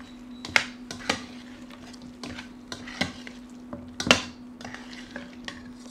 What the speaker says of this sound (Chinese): 然后呢，我们再搅拌均匀。